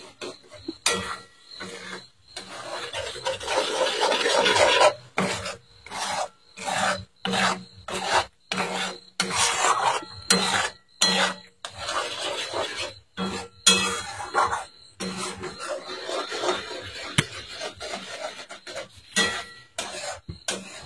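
Cracked eggs are whisked in a bowl for egg bhurji, a close, rhythmic scraping and swishing in repeated bursts with brief pauses between them.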